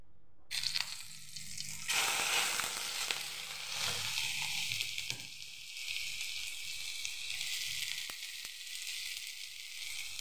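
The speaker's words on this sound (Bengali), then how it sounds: "এখন আমরা এই পেঁয়াজ কুচি ছেড়ে দেব।" Chopped onion drops into hot oil in a pan and fries with a loud, steady sizzle, with occasional stirring scrapes and clicks and no talking.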